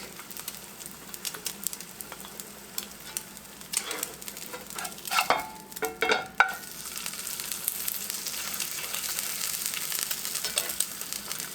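An egg fries in a skillet with its yolk popped, giving a steady close sizzle that swells into a cluster of louder crackles and spatters midway before settling back into an even hiss.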